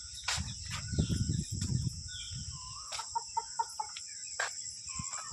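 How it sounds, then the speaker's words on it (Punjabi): Several chickens, including desi roosters and hens with small chicks, cluck in short bursts at Patiala zoo, with a low rumble underneath and a steady high hiss throughout; clucks are moderately close. "ਮੁਰਗੇ ਫਿਰਦੇ ਆ ਬੱਚੇ ਕੱਢ ਰੱਖਿਆ ਮੁਰਗੀਆਂ ਨੇ ਚੂਚੇ ਆ ਨਿੱਕੇ ਨਿੱਕੇ"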